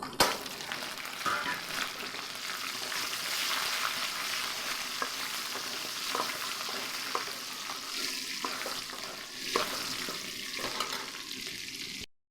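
Onions go into hot oil where garlic has already browned and fry with a steady, fairly loud sizzle, broken by occasional stirring scrapes, for a vegetable curry.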